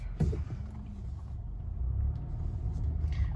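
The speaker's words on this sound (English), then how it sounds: "Let's go ahead and do a little bit of a drive here in this empty parking lot" A 2013 Honda Accord driving slowly through an empty parking lot, a low steady engine and road rumble heard from inside the car, growing slightly over the short stretch.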